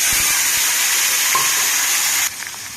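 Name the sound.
dried prawns added to pan and frying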